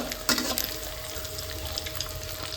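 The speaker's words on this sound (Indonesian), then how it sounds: "Kita goreng dulu." Anchovies (ikan teri) fry in a pan with a steady, close sizzle and crackle that holds throughout, and brief stirring or clattering sounds come through near the start.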